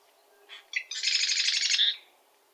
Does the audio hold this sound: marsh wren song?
yes